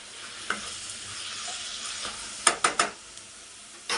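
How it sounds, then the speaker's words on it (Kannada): Onions and tomato fry in a pan with a continuous soft sizzle, broken by a quick cluster of utensil scrapes and clinks as they are stirred. "ಇದು ಅಷ್ಟೇ ಚೆನ್ನಾಗಿ ಇದು ಫ್ರೈ ಆಗಬೇಕು."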